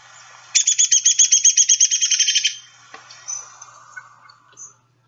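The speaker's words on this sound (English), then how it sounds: "the descending whinny of the downy woodpecker" A single downy woodpecker whinny, a fast string of bright piping notes holding level then sliding downward, loud and close, followed by a few faint chips and distant bird notes.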